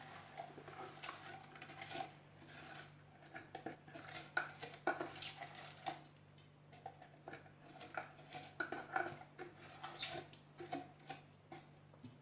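An onion is cut thin on a small handheld kitchen slicer for Moroccan briouats. Repeated clattering and scraping strokes come in uneven bursts, close and moderately loud, over a steady low hum, with no talking.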